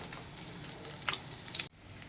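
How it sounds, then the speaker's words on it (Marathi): Soft, steady sizzling of sweet potato slices frying in hot ghee, with a few brighter crackles and pops before it cuts off. "आता तूप तापलेलं आहे एक एक चकती आपण आतमध्ये टाकूया"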